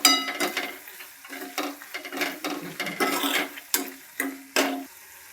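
A spoon stirs brinjal bharta with garam masala, salt and turmeric in a pan, giving a series of scraping, sloshing strokes with soft sizzling between them, close and uneven in rhythm.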